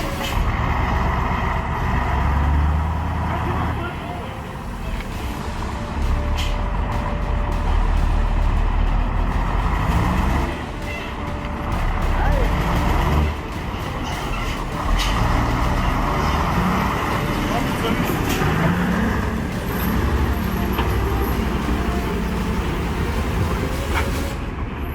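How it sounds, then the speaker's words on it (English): Heavy logging truck grinding along a muddy road, its engine a loud, continuous low roar with shifting revs and occasional hiss and clatter throughout. "From the sound of the truck, you would definitely know that it is a beast that was built to endure any task."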